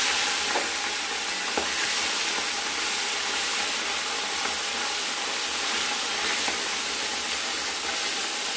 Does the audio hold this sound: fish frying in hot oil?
yes